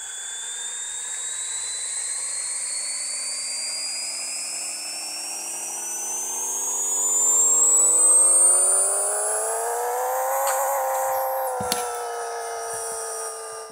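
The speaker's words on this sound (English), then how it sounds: "let me turn this up so you can hear the power of the 2J" Toyota Supra MK4 with a 2JZ engine revving in the Pixel Car Racer video game, a loud sustained whine climbing steadily in pitch, peaking, easing back, then holding with a brief blip near the end.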